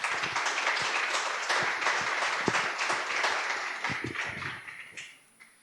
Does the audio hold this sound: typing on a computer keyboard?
no